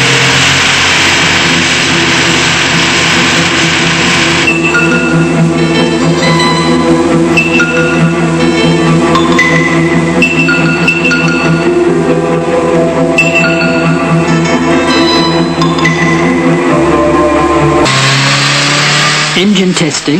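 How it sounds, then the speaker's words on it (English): A Skoda car engine runs continuously at steady speed on an automatic test bench, with a loud, droning mechanical whine and shifting tones, close and unbroken. "the automatic bench for testing the new power units"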